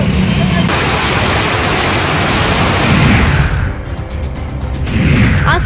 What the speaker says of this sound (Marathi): भंडाऱ्यातही कालपासून विजांच्या कडकडाटासह जोरदार पाऊस झाला